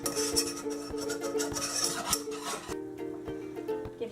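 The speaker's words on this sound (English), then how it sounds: "You're going to whisk it in and keep whisking it until it's a nice golden brown." A whisk rasps and scrapes steadily against a pan as flour is worked into melted butter for a roux, the quick rhythmic strokes close up, thinning out near the end.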